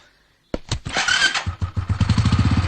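After a moment of near silence, a motorcycle engine suddenly cranks and catches, then settles into a close, loud, rapidly pulsing idle.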